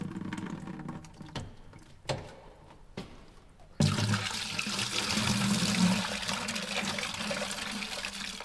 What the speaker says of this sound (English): our clean water tank to our injection system so we can run a rinse